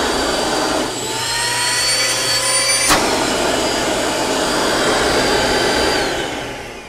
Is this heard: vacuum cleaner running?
yes